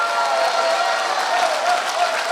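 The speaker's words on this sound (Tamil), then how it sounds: "நல்ல ஒரு கைத்தட்டல்" Audience applause at an entrepreneurship event in an auditorium, a dense continuous wash of many hands clapping, loud and even throughout with no talk over it.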